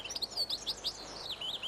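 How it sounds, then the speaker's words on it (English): A male chaffinch sings from a hedgerow, a quick run of bright, high chirping notes, clear and fairly close over a quiet background. "The male chaffinch sings out from the top of a tall tree."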